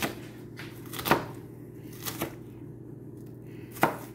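Mushrooms being chopped with a knife on a cutting board for a Thai rice porridge, a few sparse, separate knife strikes at uneven intervals, close and fairly crisp, over a low steady hum.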